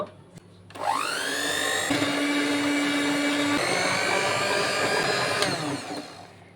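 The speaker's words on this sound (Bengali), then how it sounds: "এখন যে ডিমটিকে আমি আলাদা করে রেখেছিলাম সেটিকে আমি বিট করে নেব।" An electric hand beater whirs steadily as it beats a separated egg, starting with a rising whine, running loud and continuous for several seconds, then winding down.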